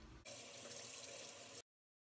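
Water runs from a faucet into a sink to rinse off a lip scrub, a steady close splashing hiss that starts abruptly and stops after about a second and a half.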